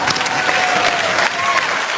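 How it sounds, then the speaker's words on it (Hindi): Awards show audience applauding loudly and steadily, a dense wash of clapping with faint crowd noise throughout. "इनके लिए भी जोरदार तालियां।"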